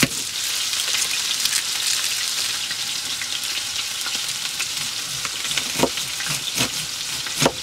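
Rocky Mountain oysters cook in a pan in a van kitchen in Colorado, giving a steady, close sizzle with scattered pops and crackles and no talking.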